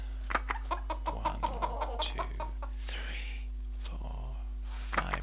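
Chickens cluck in the farming video game Farming World, a quick run of short, fairly close clucks and calls that thins out into quieter murmuring, with a faint voice underneath.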